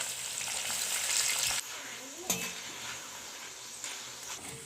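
Jackfruit chips deep-frying in hot oil with curry leaves tossed in, a dense close sizzle and crackle with a sudden flare and occasional stirring clinks.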